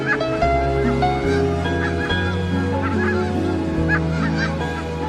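Geese honk loudly and continuously over a sustained musical drone, their calls overlapping in repeated bursts.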